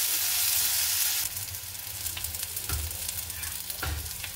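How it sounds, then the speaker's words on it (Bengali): Chopped onions and green chillies fry in a little oil in a pan, a close steady sizzle broken by a few scraping stirs of a spatula, with a louder hiss at the very start. "পেঁয়াজ আর লঙ্কাটাকে একটু ভালো মতো করে ভেজে নিচ্ছি।"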